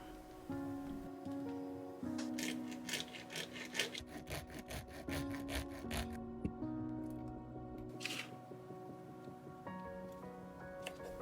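Clay being cut and scraped to shape a silicone mold for a coin, giving steady close rasping and sawing strokes over continuous background music.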